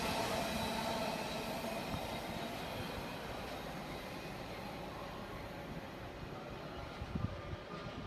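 Class 66 diesel freight train to Felixstowe passing through Doncaster station, a continuous rumbling roar of wheels and wagons that slowly fades, with a faint squeal near the end.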